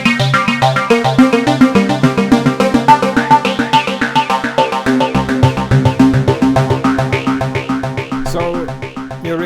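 An OP-X PRO-II software synthesizer plays a fast arpeggiator preset through a dotted-rhythm delay, bright repeating plucked notes cascading in a steady, loud, echoing pattern throughout, with no voices.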